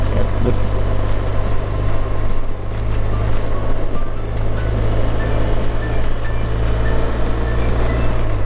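A BMW R1200RS motorcycle being ridden, a loud, steady low engine drone mixed with rushing wind noise throughout, with no speech.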